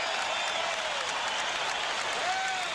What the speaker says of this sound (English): gives him a standing ovation